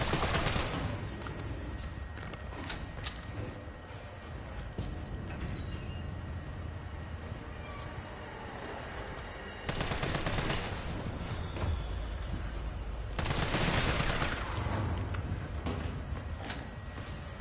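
Gunfire rings out in Resident Evil 3 Remake during a hospital stage, with loud bursts of shots breaking through constant game ambience and mechanical creaks, strongest in two stretches midway and near the end.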